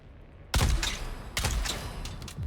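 Gunfire from a weapon in the Dune: Awakening video game, with a sudden loud shot, then another heavy report about a second later and smaller cracks trailing after, heard close with no talk.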